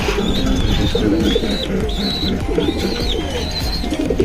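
Top silver pigeons coo in a loft, with repeated soft throaty calls and rising whistled notes coming roughly every second over a busy background of wing shuffles and movement, close and fairly loud.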